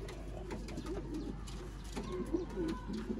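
Sialkoti pigeons, khaki and slate varieties, coo softly in a few low rolling calls over a quiet background hum.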